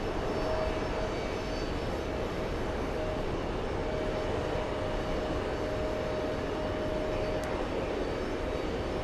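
A Boeing C-17 military transport aircraft arriving, a steady, dense jet engine roar with a faint thin whine running through it, constant in loudness from start to finish with no voices.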